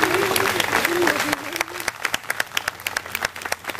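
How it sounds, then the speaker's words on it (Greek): Theatre audience applause for the cast of an opera staging of Prometheus Bound at an open-air Greek theatre, someone speaking over the clapping at first, then a loud burst of many hands clapping. "ένα μεγάλο χειροκρότημα για τον Βασίλη."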